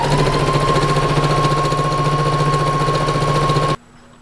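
A sewing machine runs steadily, stitching a seam along the edge of a fabric anime-style bow, a continuous loud motor whir with a fast stitching rhythm that stops abruptly near the end, leaving quiet.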